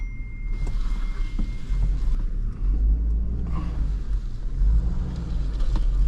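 A salvaged auction car idles in reverse gear with a suspected transmission problem, giving a steady low engine rumble with slight swells in pitch and no talk.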